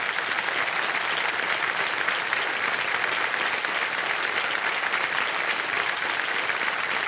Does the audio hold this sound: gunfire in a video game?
no